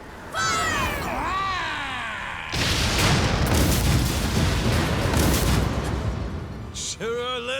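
Ship cannons fire in a sustained rumbling barrage during a naval battle in Like a Dragon: Pirate Yakuza, with heavy booms. Voices are heard before and after the barrage.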